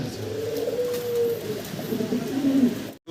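A pair of fancy pigeons coos nearby, with soft low rolling calls running through the short stretch and no talking.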